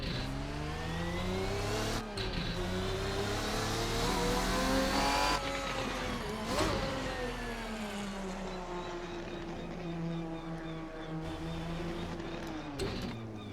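A Ferruccio 57 GT race car in a racing video game swings around and drives toward the pit lane, its engine droning steadily and sweeping up and down in pitch with gear changes, loud and close throughout.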